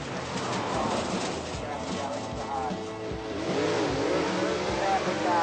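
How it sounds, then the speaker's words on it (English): A Superplus race car accelerates at the 1988 drag racing nationals in Victoria, its engine revving and rising in pitch over a crowded, distant-sounding track ambience, with a commentator's voice faintly mixed in. "And a Superplus car from Victoria, and Van Dyken, Superplus Monaro, up against"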